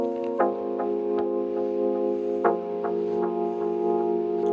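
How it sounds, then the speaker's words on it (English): An OP-1 synthesizer plays a four-bar chord progression loop, with sustained layered chords that change at two points and soft ticking percussive accents, clear and close with no voices. "I only have this 4-bar loop with the chord progression"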